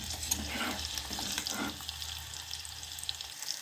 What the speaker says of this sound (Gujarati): હવે એને થોડીક વાર સાતળવા દઈશું.